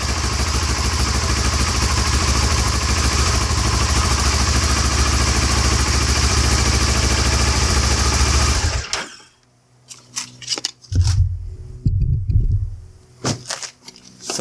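A car engine idles after being jump started with a Yaber battery jump starter, a steady loud rumble running about nine seconds before cutting off abruptly, followed by scattered nearby clatter and handling noises.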